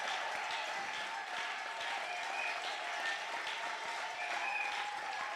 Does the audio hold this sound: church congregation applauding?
yes